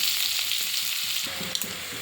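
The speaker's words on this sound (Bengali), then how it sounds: "পেঁয়াজ আর রসুনটা ভালো করে ভাজা করে নেব" Chopped onion and garlic fry in oil in a wok with black cumin seeds, giving a steady close sizzle with faint stirring scrapes, no voices.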